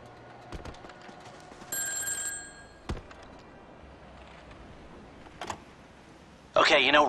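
Telephone ringing somewhere in the GTA V game world, a short electronic ring burst standing out over a low ambient bed with a few knocks, ending in a louder noisy burst.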